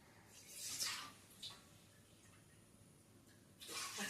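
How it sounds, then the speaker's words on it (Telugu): Water poured from a cup into a pot while cooking Annavaram prasadam with broken rice: several short, soft pours with quiet gaps between them. "వాటర్ పోస్తున్నాను"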